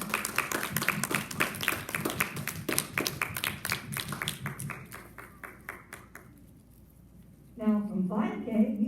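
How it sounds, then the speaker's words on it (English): An audience at a school awards ceremony applauds with dense, sustained clapping that fades out over several seconds, and then a voice begins speaking. "please join me in applauding the nominations for 4K students today"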